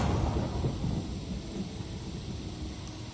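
A thunderstorm in the video game Pathfinder: Kingmaker: a steady, dense wash of rain with low rumbling thunder, loudest at the start and then holding at an even, fairly close level with no voices.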